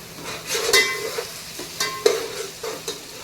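A spoonful of ginger garlic paste frying in hot oil for a chicken dum biryani, giving a soft steady sizzle with a few brief stirring scrapes and bursts, close and moderately loud, with no talk.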